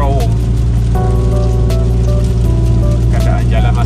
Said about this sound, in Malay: Keadaan jalan masih lagi hujan dan licin.